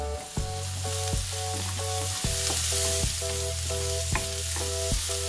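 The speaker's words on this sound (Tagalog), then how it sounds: "I'm gonna put my um, carrots." Carrots go into a hot frying pan for an adobo-flakes pasta and sizzle steadily, with repeated scraping and stirring knocks over a continuous loud frying hiss; there is no talk.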